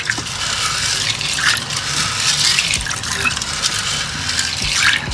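Water poured into a pot of dried beans to wash them for a Ugandan katogo dish, a continuous loud splashing gush that fills the whole stretch.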